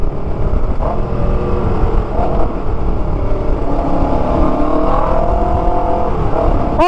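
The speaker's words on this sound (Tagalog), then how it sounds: "Hindi tayo marinig, maingay muffler natin" Racebike with a loud muffler riding on a road, a continuous close engine roar with rising and falling revs and wind buffeting, loud throughout.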